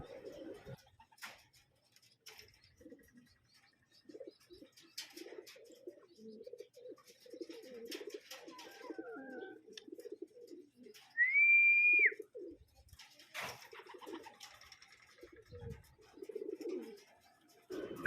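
Racing pigeons cooing on a roof, soft throaty calls under ongoing talk, with scattered ticks and rustles and one brief high whistle-like tone partway through.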